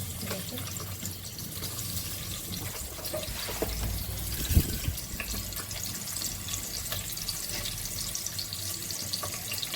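Fish and onions frying in spiced oil give a faint, steady sizzle and hiss throughout, with one soft thump near the middle.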